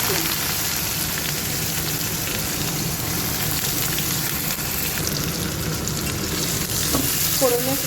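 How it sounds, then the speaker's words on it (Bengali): Chopped onions sizzle and crackle in hot oil with panch phoron, a loud, continuous frying hiss close to the pan, with occasional stirring scrapes. "ফোড়নের সাথে পেঁয়াজ কুচিটা আমি একটু ভাজতে থাকবো তেলে।"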